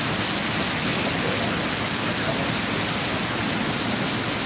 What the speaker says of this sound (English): You can see the rain?